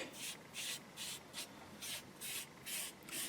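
Wood stain being rubbed by hand into an ash body of a 1976 Stratocaster during a refurbishment, making soft, faint rhythmic swishing strokes repeated about eight times at an even pace.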